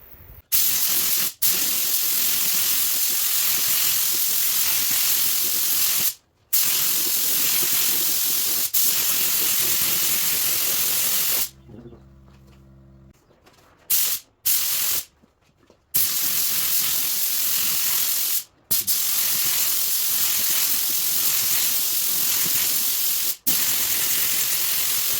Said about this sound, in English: So let's go ahead and spray some clear coat and see what it does.